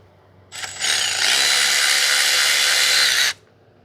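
A power tool on a 2006 Mazda 3 2.3 removes a T25 Torx bolt from the bracket on the coolant water outlet housing, a loud, steady high-pitched whir running for about three seconds, then stopping.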